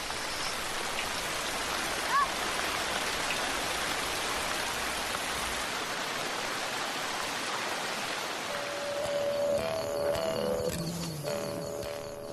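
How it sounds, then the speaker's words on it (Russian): Steady hiss of rain falling on surfaces, constant and enveloping, with some faint tonal sounds and rustling near the end. "А еще снова пошел дождь."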